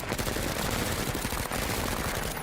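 Sustained submachine gun fire in the tactical video game MENACE, a dense, continuous rattle of rapid shots layered with other gunfire, loud and unbroken, with no one speaking.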